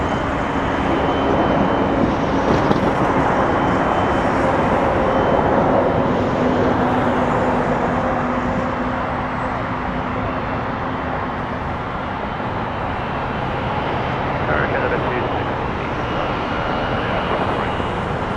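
Airplane taking off from runway 23 at Toronto Pearson airport, a steady broad engine roar that holds for the full length and eases slightly toward the end, heard from a distance.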